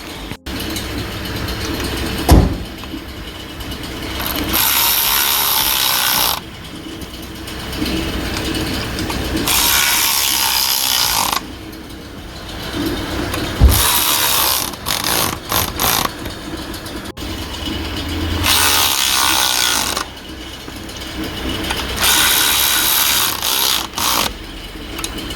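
A power tool whirs in several loud bursts of a few seconds each, tightening bolts during a 2011 Kia Rio clutch replacement, separated by quieter mechanical clicking and shop noise.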